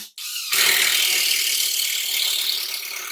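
A ratchet drives a screw while a shelf is put up, its dense clicking starting abruptly after a brief lead-in and continuing loud and steady, close to the listener with no talk.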